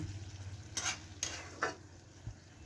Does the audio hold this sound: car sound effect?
no